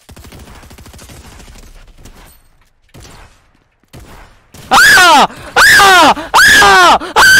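Quiet rustling and shuffling give way to several loud bursts of rapid gunfire in the video game Fortnite, repeating in short volleys with ringing tones, close and harsh.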